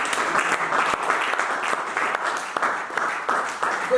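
A church congregation applauding during a worship service, with dense, continuous clapping from many hands that swells in waves and stays steady throughout, fairly close and without speech on top.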